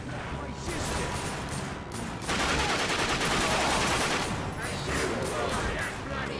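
Rapid, loud gunfire fills a scene in The Darkness 2 video game, dense bursts of automatic shots that swell into a heavier barrage midway and then continue in rattling volleys.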